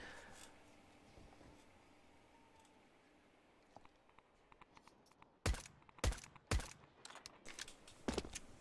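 A decoy grenade is thrown during a Counter-Strike match on the Train map, followed by a string of sharp, loud bangs that mimic gunfire, set against faint, steady game ambience.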